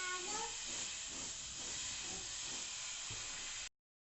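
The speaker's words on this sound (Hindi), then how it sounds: "उसमें अब हम 1 बाय 1 डोनट्स डालते जाएंगे और फ्राई कर लेंगे।" Doughnuts frying in oil over a slow medium flame give a steady, dense sizzle up close that holds evenly for a few seconds and then cuts off abruptly.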